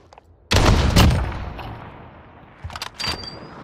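A single hard-scoped sniper rifle shot in an online search-and-destroy shooter match, a sharp loud blast with a brief booming tail, followed moments later by a couple of fainter clatters and a thin whine.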